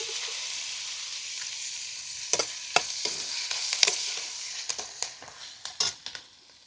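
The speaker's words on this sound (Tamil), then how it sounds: "இப்போ இது கூட தக்காளி, பச்சை மிளகாய், கருவேப்பிலை இது மூணுத்தையும் சேர்த்து வதக்க போகிறேன்" Tomato, green chili and curry leaves are sautéed in a pan. The oil sizzles softly and steadily, while a spoon stirs and scrapes against the pan in a string of sharp, irregular clicks and scuffs.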